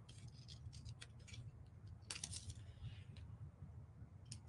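Scissors snipping around a paper napkin motif in a decoupage craft, with faint, irregular crisp snips and paper rustles, several bunched in quick clusters, close up and quiet.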